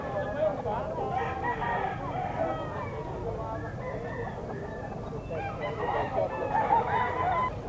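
Gamefowl roosters crow at an outdoor pet market, with several overlapping crows and clucks from various distances over a busy murmur of people talking.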